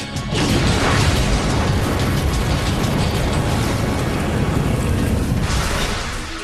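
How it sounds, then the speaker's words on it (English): A large homemade bomb detonates outside the reinforced concrete and steel Murrah building in Oklahoma City: a sustained, loud, broad roar that fills several seconds and then tails off slightly. "A bomb explodes outside the Murrah building in Oklahoma City."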